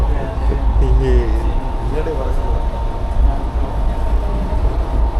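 Steady low rumble and rattle inside a moving train carriage, with people talking nearby over the constant noise.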